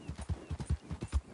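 Hooves of a horse gallop in Red Dead Redemption 2, a quick rhythmic clip-clop of about a dozen muffled thuds in a row, moderately close.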